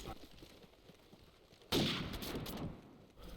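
Gunfire rings out in a competitive match of Call of Duty 4, a sudden loud shot and echoing bursts after a quieter stretch, close and punchy against game ambience.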